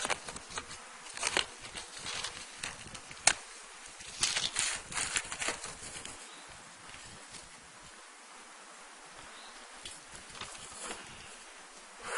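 Honey bees buzz in a continuous drone around an open hive, with a few louder passes of single bees flying close and soft rustling of handling in the background.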